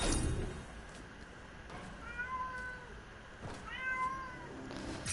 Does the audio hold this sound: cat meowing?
yes